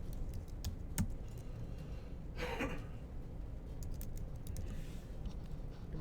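A name is typed on a computer keyboard in a quiet room, with a few soft, scattered key clicks over faint background hiss and no talking.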